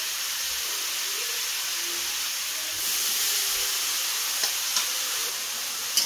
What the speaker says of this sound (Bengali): এটাকে এখন বেশ কিছুক্ষণ ধরে আমি নাড়াবো, একটু হালকা ভাজা ভাজা হবে